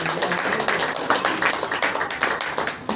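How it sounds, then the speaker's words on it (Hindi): Congregation at a Saturday prayer meeting clapping together, a fairly even rhythm of many hands striking in steady pulses, close and lively throughout. "ताली बजा करके परमेश्वर को धन्यवाद।"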